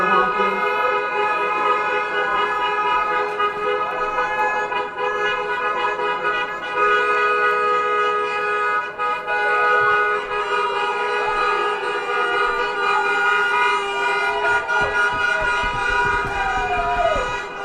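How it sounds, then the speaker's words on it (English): Car horns toot repeatedly on a city street outside the Derek Chauvin trial after the verdict, layered over a continuous traffic din with a siren-like wail among the honks, with a faint voice now and then. "Because people are honking."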